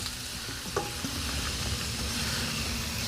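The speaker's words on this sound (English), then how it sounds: "You can hear that sizzle when you drop in that shrimp" Shrimp sizzling as they drop into oil that has heated for a few minutes, a loud, steady frying hiss throughout with a faint hum beneath and a brief clink near the start.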